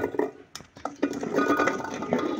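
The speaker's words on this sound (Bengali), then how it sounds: "তাই আমি অল্প অল্প করে আমরা ঢেলে নেব।" Hog plums for a pickle poured bit by bit into a bowl, with soft clinks and knocks of utensils and dishes in a series of close, irregular taps.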